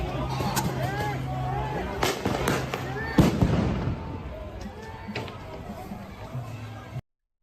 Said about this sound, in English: you guys can see the fireworks and stuff like that exploding